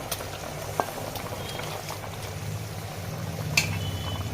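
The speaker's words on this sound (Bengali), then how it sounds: "ফুট হবে আমি নামিয়ে নেবো" A Bengali hilsa fish curry with slit green chillies and eggplant boils in a pan, with a steady close bubbling and a couple of brief clinks from stirring.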